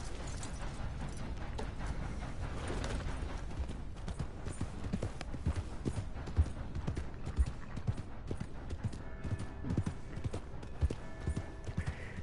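Horses with old carts clip-clopping along in Red Dead Redemption 2, a steady mass of hoofbeats and rolling wheels with a few louder hoof strikes and a faint whinny, over a busy game-world background.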